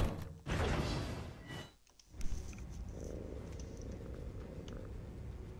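A cat in a survival horror game purrs softly in a low, continuous rumble, following a few louder thumps and rustles at the start; no one speaks over it.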